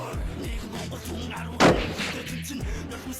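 A single sharp gunshot rings out during a border troops' training drill at an outdoor firing range, one loud report standing above steady background noise with no talk.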